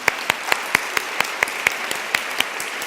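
A conference audience claps for a panel at a plenary session, with sharp, evenly spaced claps close by over a thin background of scattered applause.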